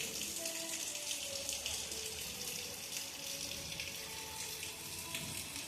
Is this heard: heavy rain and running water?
yes